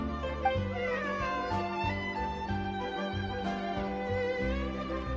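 A cat in the video game Genshin Impact meows a few times over steady in-game background music, with the calls soft and close.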